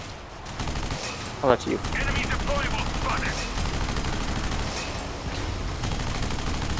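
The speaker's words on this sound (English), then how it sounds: "What am I getting shot by?" Sustained gunfire rattles in the sci-fi shooter Section 8: Prejudice as a player takes hits on the Whiteout map, a dense steady barrage under a brief spoken reaction.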